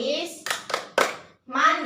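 Children in an Indonesian primary classroom clap hands in the short PPK clap rhythm, a few sharp close claps with a brief pause, mixed with their chanting voices.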